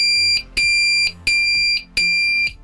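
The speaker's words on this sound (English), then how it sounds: "one blip, the alarm is set. Now we open door again." Pyronix Enforcer alarm going off after a door is opened: loud, shrill repeating electronic beeps in four pulsing bursts with short gaps between them, close and alone.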